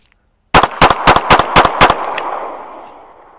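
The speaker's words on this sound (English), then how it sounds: "Let's give the LCP another shot and see if maybe we can shoot it even faster." Six rapid, sharp shots from a Ruger LCP II .380 pistol fired close together, loud and near, each crack fast in succession, with the echo tailing off after the last.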